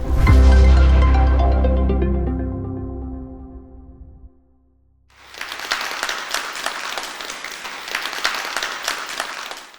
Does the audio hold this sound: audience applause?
yes